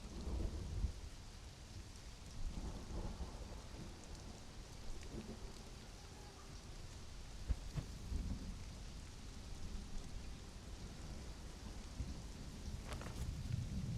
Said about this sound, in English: That's a big storm.